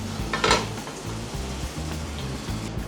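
Meat frying in a pan on a medium flame, a steady close sizzle with clinks of utensils and cookware, plus a brief louder burst of spitting near the start.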